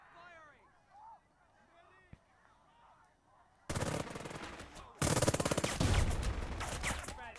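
Squads trading rifle and machine-gun fire in the World War II tactics game Burden of Command: quiet ambience, then loud bursts of gunfire that break in suddenly and keep rattling, with talk partly underneath.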